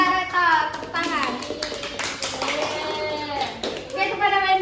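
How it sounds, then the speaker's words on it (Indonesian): Children in a primary school classroom clap for a classmate, scattered hand claps mixed with lively kids' voices chattering and calling out over the applause. "pintar Reta, tepuk tangan"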